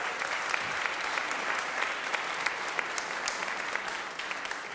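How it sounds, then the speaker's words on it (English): A theater audience at a storytelling show gives a round of applause, a thick, even wash of many hands clapping that holds steady throughout before easing slightly at the end. "please give them a round of applause"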